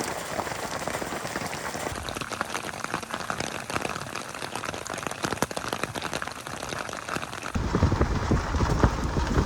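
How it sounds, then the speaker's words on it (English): Hail pelting down under a clear sunny sky during an overland road trip in the Pacific Northwest, a dense steady patter of hard pellets that swells louder and heavier toward the end. "While the sun's out, it's hailing."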